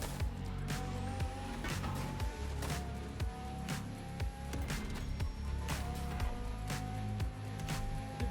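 A Ferrari drifts in The Crew Motorfest video game, with a steady engine tone and repeated tire squeals rising and falling in a run of skids, loud and close.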